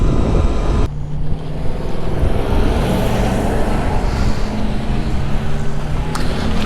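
A TORP electric motorbike out on a ride, with a steady motor hum and rushing wind noise that runs the whole stretch after a brief louder opening, close and loud, with no talk.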